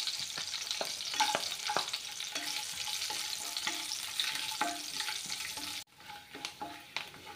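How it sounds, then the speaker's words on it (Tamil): Almonds and cashew nuts fry in hot ghee in a pan with a steady, close crackling sizzle broken by stirring scrapes, and the sound drops briefly near the end before the bubbling resumes. "இப்போ பாதாமை ஃப்ரை பண்ணி எடுத்துக்கோங்க. கூடவே கேஷ்யூ நட்டு ஆட் பண்ணிக்கலாம்."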